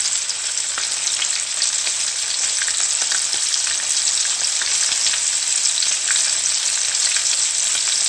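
Extra large spicy shrimp fry in a pan over lowered heat, giving a steady, dense sizzle with fine crackling pops that runs unbroken and close throughout, with no voices.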